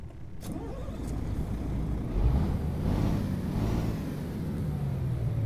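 A Liaz 300S truck engine in American Truck Simulator runs steadily with a deep, loud rumble, and it swells in revving roughly midway through before settling back to a continuous drone.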